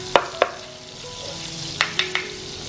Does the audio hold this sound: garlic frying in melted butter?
yes